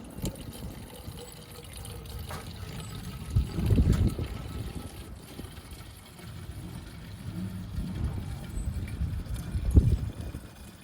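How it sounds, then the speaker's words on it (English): Methylated spirits pouring into an empty spray bottle, a soft liquid trickle with two fuller surges of flow, close by and moderately quiet, no talking. "Now just get an empty spray bottle, and we're just going to pour our methylated spirits in there."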